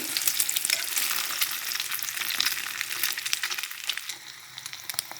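An omelette fries in pork lard and is flipped, making a busy, close sizzle with crackling pops and scraping stirs throughout, no voices over it.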